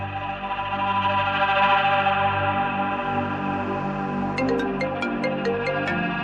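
A phone ringtone plays loudly and steadily in a home, its layered electronic melody repeating with no talk over it.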